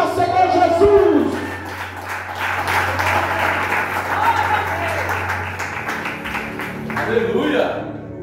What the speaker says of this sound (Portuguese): Aplaude ao Senhor Jesus.